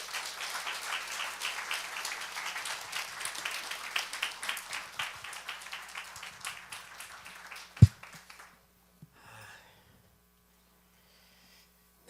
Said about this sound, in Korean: 우리 정의호 목사님 나오실 때 우리 힘찬 박수로 맞이하겠습니다.